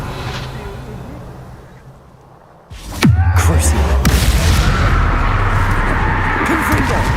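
A Confringo fire blast spell explodes in Hogwarts Legacy: after a quieter lead-in, a sudden loud boom strikes, then gives way to a sustained roaring rumble with crackling debris that carries on to the end.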